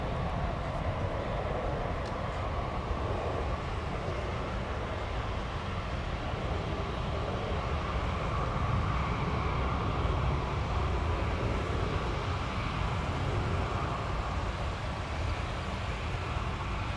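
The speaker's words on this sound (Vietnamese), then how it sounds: "Và chiếc A320 đặc biệt đang lao vút lên bầu trời." Airbus A320 airliner taking off and climbing away from Noi Bai airport, a steady, broad jet roar that holds at a constant level throughout with no voices.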